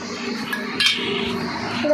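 A carrot grated by hand in a home kitchen gives a steady, close rasping scrape with a brief metallic clink partway through. Faint voices sit in the background.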